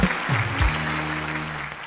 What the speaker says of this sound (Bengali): সো একটা জোরে হাততালি।